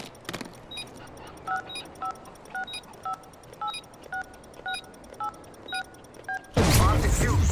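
A video game bomb is being defused: a string of short, evenly spaced electronic beeps ticks along steadily, then a sudden louder burst of noise ends the sequence.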